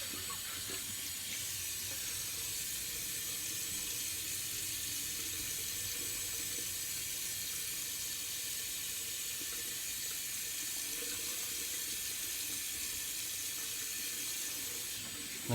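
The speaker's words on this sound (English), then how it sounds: "Now I hit it with alum and cold water." A tap runs cold water in a steady, even hiss into a sink, continuous and fairly close, with no talking over it.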